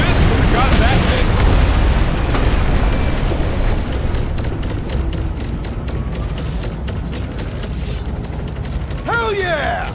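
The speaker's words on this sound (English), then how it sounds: "Wait for the boom! Last dropship's going down!" A dropship explodes and goes down in Marvel's Guardians of the Galaxy game, a loud, sustained rumbling blast layered with mechanical clatter that slowly eases off, with voices talking over it.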